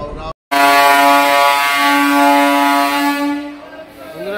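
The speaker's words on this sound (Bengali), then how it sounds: "কামারকুণ্ডু রেল স্টেশন থেকে এখন এই মুহূর্তে ছেড়ে যাচ্ছে পুরুলিয়া হাওড়া মেমু" A Purulia–Howrah MEMU train leaving Kamarkundu station blasts a loud, sustained horn, one steady, harmonically rich tone lasting about three seconds after a brief gap, then fading.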